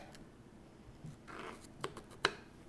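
A small knife trims a pepper into a tiny devil's-tail garnish for deviled eggs: two short, crisp cutting snicks near the end, over a quiet, faintly hissing room.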